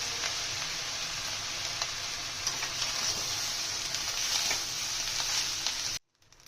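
Steady crackling sizzle of butter and lemon juice frying in a pan while making lemon rice, continuous and close, then cutting off abruptly near the end.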